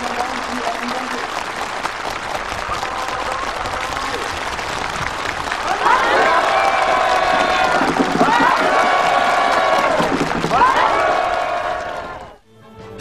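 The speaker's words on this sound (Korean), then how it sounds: "참가자들의 열렬한 박수" Enthusiastic applause from participants at a housewarming gathering for new homes at a North Korean farm, loud sustained clapping throughout, swelling around the midpoint with a backdrop of music, then dropping off abruptly at the end.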